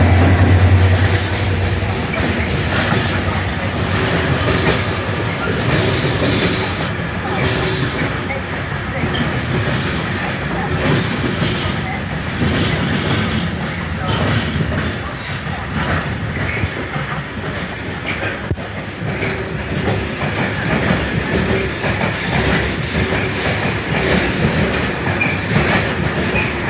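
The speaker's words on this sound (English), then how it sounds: "Platform 4 from the 1359 cross-country service to Penzance." A cross-country passenger train runs through Doncaster station, a loud continuous rumble of wheels with clickety-clack over rail joints and brief high squeals, steady from start to finish, with a faint voice partly under the noise.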